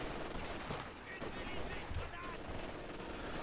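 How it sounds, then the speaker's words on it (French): Machine gun fire in Company of Heroes 2, a dense rattle of rapid shots mixed with scattered gunfire and battle noise, fairly quiet and continuous across a few seconds. "Il y a une mitrailleuse."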